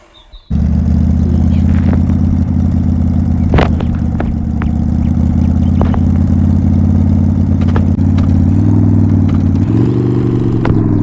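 Car engine cranks and catches after a brief silence, then settles into a loud, steady idle close by, with a slight rise in pitch near the end.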